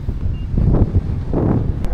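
Gusty wind at Lake Wanaka, New Zealand buffets the microphone in low rumbling surges, loud and close, with no one talking.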